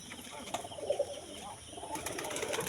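Pigeons perched in trees around a pigeon house give soft, low cooing calls, several short coos scattered through the clip against faint outdoor background noise, with no talk heard.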